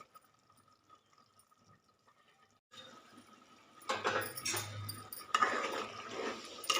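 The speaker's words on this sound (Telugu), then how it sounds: "వాటర్ కూడా ఎక్కువ అవసరం లేదండి, కొంచెం పోస్తున్నాను అంతే" A small splash of water is poured into chicken curry in the pan; a quiet stretch gives way to a rising, bubbling sizzle and pour that grows louder toward the end, with no talking.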